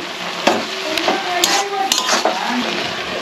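Small shrimp are stirred into pumpkin and potato frying in a pan, with utensil scrapes and clinks over a steady low sizzle; several sharp metallic taps ring out in an irregular rhythm, close and fairly loud, with no talking.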